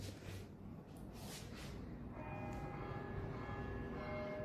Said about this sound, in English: going to have to listen to the bells.